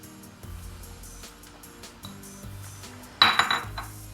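Minced meat being stirred together with egg and Chinese cabbage in a bowl for spring rolls, giving soft squelching with a few utensil clinks and a brief louder clatter near the end, close by with no talk.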